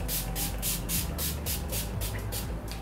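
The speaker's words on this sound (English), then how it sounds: "I'm gonna go ahead and use a Skindinavia setting spray and just spray it on." Rapid pumping bursts of a fine mist of Skindinavia makeup setting spray, about ten quick hissing puffs in a steady rhythm, close and fairly soft.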